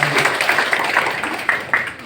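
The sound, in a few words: audience applause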